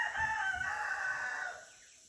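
Hand-raised guinea fowl kept as a small farm flock call out with loud, harsh, repeated cries lasting about a second and a half before trailing off, close by with no one talking.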